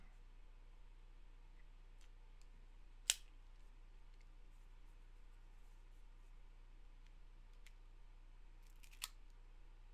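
A cigar cutter snips through a cigar with one sharp, close click, followed later by a second fainter snip, over a quiet low hum with no talking.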